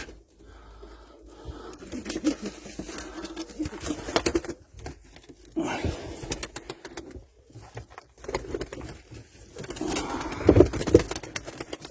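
Young tumbler pigeons cooing softly near and far amid wing flutters, shuffling and bursts of handling noise, with quiet gaps between calls.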